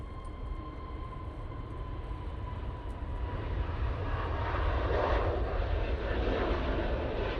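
EasyJet airliner at Manchester Airport starting its takeoff roll, a broad steady jet engine roar that swells gradually louder over several seconds, heard from a distance outdoors.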